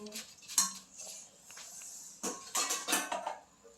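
Utensil clatter and scraping against a pot of stinging nettle in boiling water, a few irregular stirring knocks and clinks up close, no talking.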